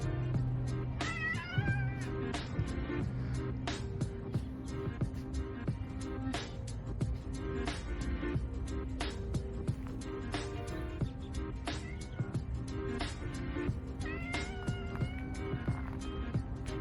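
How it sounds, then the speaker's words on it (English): Several cats in a backyard meow and caterwaul repeatedly, their calls rising and falling in irregular bursts over a constant low background hum, fairly faint and without voices. "And here's some backyard cats that like to hang out."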